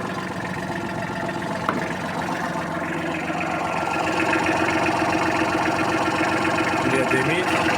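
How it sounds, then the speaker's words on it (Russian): A Kubota GT23 Japanese mini tractor with a front loader and rotary tiller runs its engine close by, settling into a smooth, steady idle that grows slightly louder midway through. "Заводим трактор. Работает мягонько. Посторонних шумов двигателя нет."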